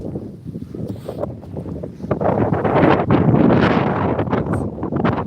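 Cold wind gusts roar against the microphone outdoors, a steady rumble that builds into a louder, sustained blast in the second half, with no talking.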